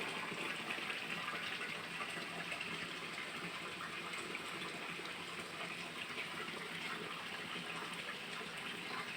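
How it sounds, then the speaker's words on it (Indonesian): Water flows steadily from a village spring spout, a soft continuous splashing gush at moderate distance with no talk. "Ini airnya agak kecil."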